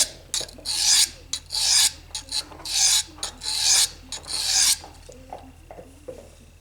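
Blade sharpened on an Eze-Lap 400/600 diamond combo stone, steady rasping strokes repeated in a regular rhythm, close and loud, then lighter, quieter scrapes at the end.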